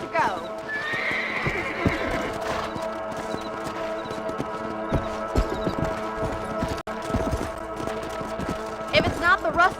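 Horse in the Red Dead Redemption video game, with rhythmic clip-clop hooves and a couple of loud neighs and whinnies, under game ambience and occasional speech.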